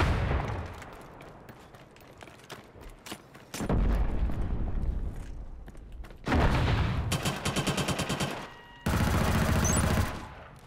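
Gunfire in the video game Killzone Shadow Fall during an online multiplayer match with the M55 Rumbler, loud sustained bursts of automatic fire broken by brief pauses, with distinct rapid volleys near the end.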